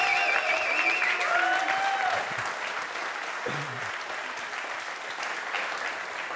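A live studio audience at a sports show in Cologne applauds steadily, loud and sustained clapping that fades slightly while a voice speaks briefly over it.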